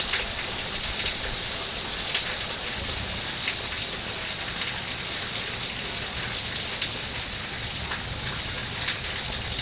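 Sudden heavy unseasonal rain lashes down amid stormy wind, a loud, unbroken wash of drumming drops hitting surfaces at close range for the whole stretch.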